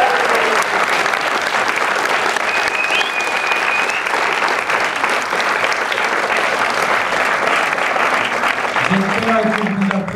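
Audience applause at the FIFIGROT film festival, a sustained burst of dense clapping filling the room for the full length, with a few voices rising near the end.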